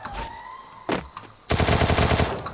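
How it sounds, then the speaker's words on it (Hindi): Video game gunfire: a couple of brief sharp sounds, then a loud sustained burst of rapid automatic fire lasting about a second, close and without talk. "अच्छा गाइस गन सही क्या छोटू भाई का हेड मारा"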